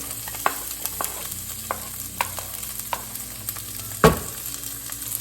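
Onions sautéing in a pan for a chayote squash dish, with a soft continuous sizzle broken by regular light spoon taps and scrapes and one louder clatter, close, no talking.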